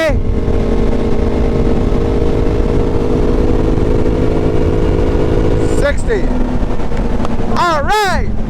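Polaris Sportsman 850 ATV engine holding a steady, loud drone that climbs as the quad accelerates toward 60, with wind rush throughout and a couple of rising whines near the end.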